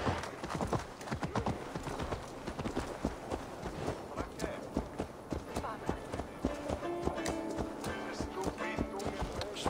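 Horse hooves gallop in rapid, rhythmic clip-clop through a town in Assassin's Creed Valhalla, fairly faint, with game ambience and a few other sounds alongside.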